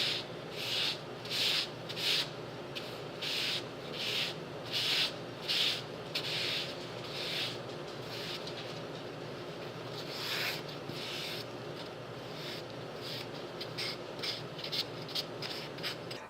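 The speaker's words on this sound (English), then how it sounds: "I think this is 120 grit sandpaper, so it's nice and smooth" Rhythmic hand sanding of a small hatchet handle with 120 grit sandpaper during a tool restoration, repeated close scratchy strokes in an even back-and-forth pattern that fade to softer rubbing midway.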